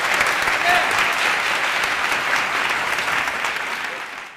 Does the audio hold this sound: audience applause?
yes